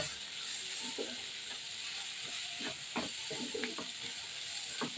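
Chicken patty filling with garam masala and chopped coriander stirred in a hot pan, a soft continuous sizzle overlaid by repeated scraping strokes of the spoon, close and without speech.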